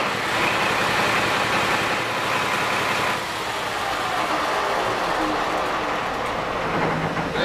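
Mega yacht engine in its engine room, just fitted with a reinstalled aftercooler and turbo, running as a loud, steady mechanical roar with a broad rumble and a slight shift in tone about halfway through.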